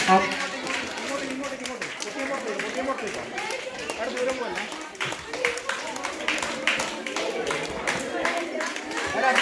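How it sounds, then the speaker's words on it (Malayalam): A crowd at a village Onam celebration claps steadily to cheer on contestants in a children's balloon-fighting game, close and continuous, with chatter and voices mixed in throughout. "മത്സരാർത്ഥികളെ കൈയടിച്ച് പ്രോത്സാഹിപ്പിക്കുക."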